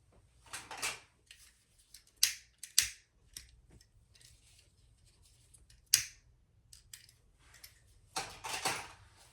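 Fabric being trimmed with scissors for a sling, heard as sharp, close snips in short irregular bursts separated by quiet pauses.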